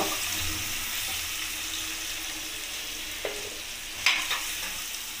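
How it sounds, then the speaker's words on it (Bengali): Pumpkin and potato pieces frying in oil with salt, a steady close sizzle with a couple of brief scraping stirs toward the end, no talk. "এখন আমি একটু নুন দিয়েই লাল করে ভেজে নেব"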